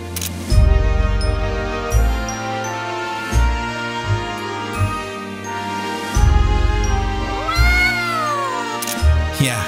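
Sulfur the cat from the Mana Khemia video game meows repeatedly, several drawn-out, loud, close cries in a row, set against soft background game music.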